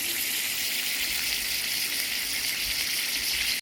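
Snapping turtle meat fries in a pan with a steady, dense sizzle and crackle that holds evenly throughout, close and fairly loud with no talking.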